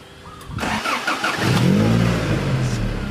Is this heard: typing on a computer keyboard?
no